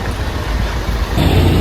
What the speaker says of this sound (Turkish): Nasıl bir trafik.